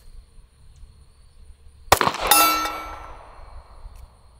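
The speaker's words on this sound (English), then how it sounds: "Just hit the steel target." A rifle bullet strikes a steel target, giving one sharp metallic clang with a bright ringing tail, then a second impact or echo that fades over about two seconds against a quiet outdoor background.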